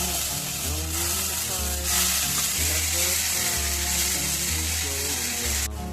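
Kharkol leaf paste stir-fried in mustard oil gives a steady, close hiss of sizzling that runs throughout, with a tonal musical backing underneath.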